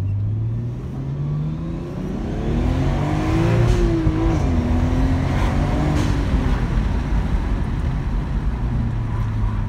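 Nissan Skyline R34 GT-T engine loud and close, revving hard through first gear, a brief dip at the shift, then pulling up through second with rising pitch and steady roar throughout.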